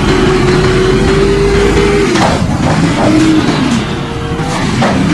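A garbage truck engine hums and revs up and down, rising and falling in pitch, loud and close, with no voices.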